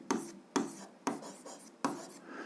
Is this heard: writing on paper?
yes